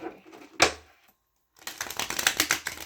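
A quick riffle of tarot cards, a brief silence, then a longer run of rapid papery flutters and snaps as the deck is shuffled nearby.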